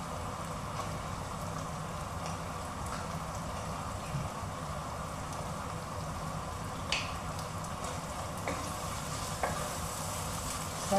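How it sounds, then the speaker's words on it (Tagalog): Shrimp paste (bagoong) sizzles in a pan while being sautéed, a steady crackling hiss with occasional scraping stirs, with no talking. "So ito na lang ilalagay ko pero igigisa pa rin natin."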